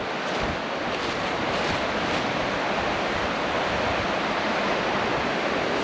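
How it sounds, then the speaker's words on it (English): River flowing beside a camp under a highway bridge in Bennington, Vermont, in winter: a steady, dense rush of water mixed with wind noise on the microphone, continuous and unbroken with no voices. "See, what's the river like today?"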